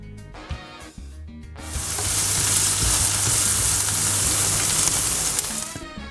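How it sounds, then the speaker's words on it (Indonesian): Ground meat sautéing in a pan with red chili powder and cumin for homemade tacos, breaking into a loud, steady sizzle after a few quieter stirs and scrapes, close up and with no talking. "Tumis hingga dagingnya matang ya."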